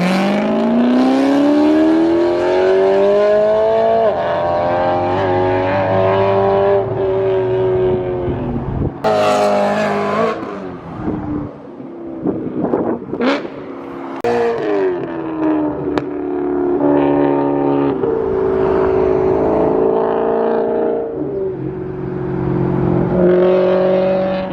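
A BMW E90/E92 with a straight-pipe Macht Schnell X-pipe exhaust and no muffler revs loudly and repeatedly, the engine rising and falling in harsh, close, raspy surges with brief pauses between bursts.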